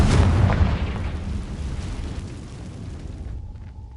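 A Confringo blasting spell in Hogwarts Legacy detonates in one heavy, booming explosion that starts loud and rumbles away over a few seconds of fading debris noise.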